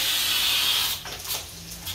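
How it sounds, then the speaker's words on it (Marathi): A pressure cooker cooking rice releases a steady, loud, close hiss of steam that eases off after about a second into a softer, uneven hiss, with no talking. "डायरेक्ट कुकरमध्ये भात लावलेला आहे."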